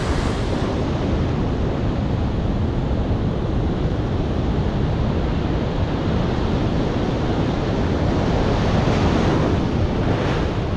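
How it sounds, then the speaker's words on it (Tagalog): Large ocean waves crash and surge in a continuous, loud roar of surf, with wind buffeting the microphone throughout and no voices. "Dapat mapalampasan doon sa lagpas ng mga alon na malalaki na yan"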